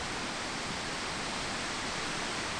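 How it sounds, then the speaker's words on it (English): A big waterfall forms the backdrop of a golf course, heard as a broad, constant roar of falling water that stays steady and fairly faint, with no voices. "Big waterfall"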